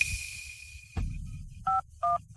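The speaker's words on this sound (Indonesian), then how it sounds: "Jason, ayo telepon 911." Telephone keypad tones while someone dials 911: a long steady dial tone, a click, then two short, loud, evenly spaced dual-pitch beeps close up.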